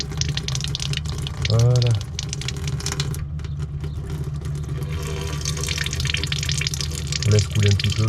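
Water running steadily from the tap of a water filtration station, a constant loud rushing flow, with a person briefly speaking over it.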